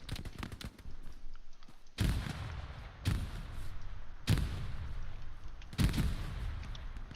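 An enemy tank fires in a video game battle: four heavy, booming cannon blasts land about one to two seconds apart, each with a long rumbling tail, over faint background crackle.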